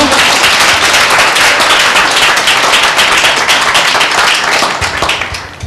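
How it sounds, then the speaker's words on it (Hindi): A congregation at a Tuesday church meeting breaks into loud, dense applause close by, sustained for several seconds before easing slightly at the end. "क्या एक जोरदार ताली दें यीशु के नाम को"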